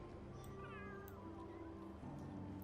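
A cat meowing in The Sims 3, one drawn-out plaintive meow over a steady low background hum, fairly quiet, with no talking.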